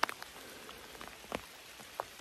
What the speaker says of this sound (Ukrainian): в нас йде плотняком дощ